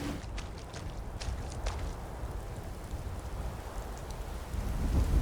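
Rain falling steadily in the Skyrim video game, a constant hiss of drops with a low rumble beneath that swells slightly toward the end, heard alone without talk.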